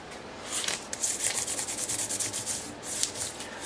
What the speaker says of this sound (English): I might take some high grit sandpaper and run it down the board first